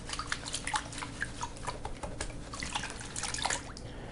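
Water sloshing and splashing in a gold pan as paydirt tailings are stratified and panned quickly, with close, irregular swishes and trickles.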